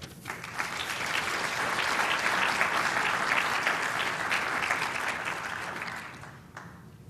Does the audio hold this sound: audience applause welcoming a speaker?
yes